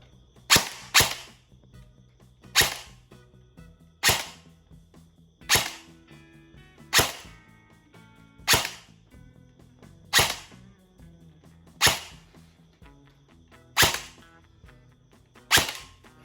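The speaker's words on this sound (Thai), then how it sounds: "เรายิงไป 10นัด" An E&C airsoft HKM27 IAR rifle with an 11-inch barrel fires ten semi-auto shots at a steady pace, each a crisp, close snap with a short decay, no voices.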